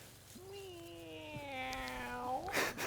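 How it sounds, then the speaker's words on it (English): A cat lets out one long, drawn-out meow that rises and bends at the end, close by over quiet background, followed by a short noisy burst. "Or this free cat."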